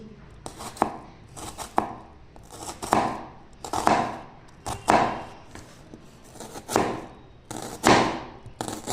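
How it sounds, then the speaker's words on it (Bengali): A knife finely chops two medium onions on a board, making close, crisp knocks in a steady rhythm of about one stroke per second, with no voices. "পেঁয়াজটাকে প্রথমে কুচিয়ে কেটে নিচ্ছি।"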